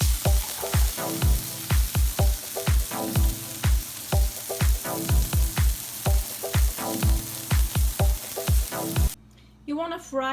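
Small meatballs frying in a hot, smoking pan, with a loud, steady sizzle broken by repeated clacking stirs and pan scrapes close by, ending in a brief quieter moment.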